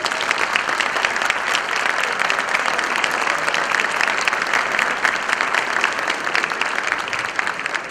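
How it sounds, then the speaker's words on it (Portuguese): Sustained applause from a ceremony audience at a technology congress, dense and steady throughout, a large crowd clapping continuously without a break. "eu gostaria de registrar e pedir também os aplausos"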